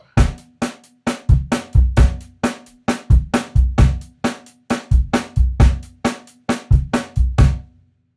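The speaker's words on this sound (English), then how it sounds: "we sometimes call it the Motown stomp with the snare drum on every downbeat" Drum kit playing a straight Motown stomp groove, snare cracking on every downbeat with steady kick and hi-hat, played at moderate volume in a clean, even rhythm for about eight seconds without talk.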